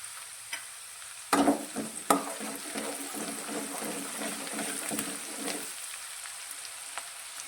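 Chopped onion and finely cut green chili sautéing in a pan, with a soft continuous sizzle, a loud clatter of stirring near the start and intermittent scraping, no talk.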